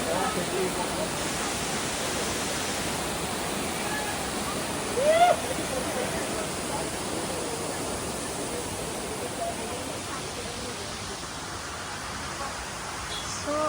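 Roadside waterfall at Amboli Ghat, heard as steady broadband rushing water that fills the scene at a constant level, with one brief louder burst partway through.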